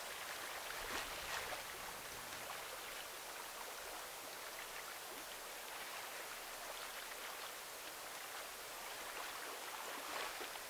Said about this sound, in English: continues to drift, lulled by the water's gentle rhythm.